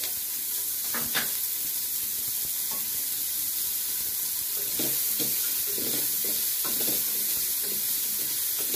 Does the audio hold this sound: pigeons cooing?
no